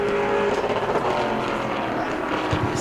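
Pro late model race car on a qualifying lap at New Smyrna, a loud sustained engine roar that shifts in pitch as the car passes, with no talk over it.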